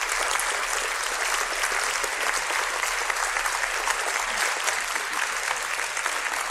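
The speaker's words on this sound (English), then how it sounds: "Let's give our guests, Fintan O’Toole, Natasha Trethewey, Geraldine Higgins, last round of applause." An audience gives sustained, dense applause for the guests at the end of a creativity conversation, with clapping filling the hall evenly for several seconds and only a faint murmur of crowd noise underneath.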